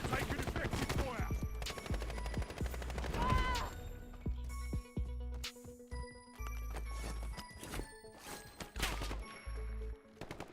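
Rapid bursts of video game gunfire crack out in clustered volleys, loud and close, with sharp impacts spread across the scene amid in-game effects.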